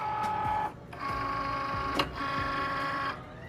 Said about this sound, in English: it's going to be inside the Cricut cutting machine once I hit this button